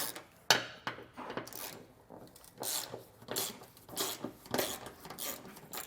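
Metal clinks and ratchet-like clicks come in short irregular bursts as a wrench loosens skid plate bolts on a 2020 Jeep Cherokee, close up and fairly quiet.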